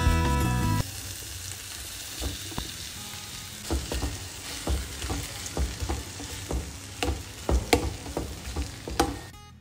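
Paneer sizzling in a pan with leftover ghee and spices, a steady close frying hiss punctuated by repeated clinks and scrapes of stirring that grow busier toward the end.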